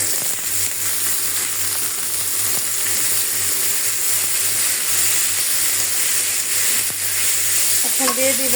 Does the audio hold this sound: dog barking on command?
no